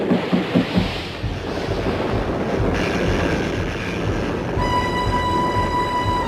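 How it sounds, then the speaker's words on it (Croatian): A sudden storm at sea strikes a sailing ship in an animated Gulliver's Travels cartoon: loud, continuous roaring wind and crashing water, with a thin whining tone rising over the storm near the end. "te noći iznenadna oluja je pogodila Antilup"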